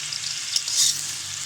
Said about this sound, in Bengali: ভালো করে মিক্স করে নেব মিষ্টি কুমড়ার সাথে।